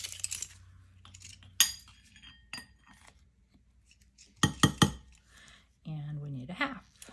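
Metal teaspoon clinking and scraping against containers while measuring incense ingredients such as sandalwood powder, scattered sharp clicks with a cluster of quick taps, a voice speaking briefly nearby.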